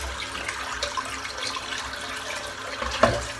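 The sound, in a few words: sink filling with water from tap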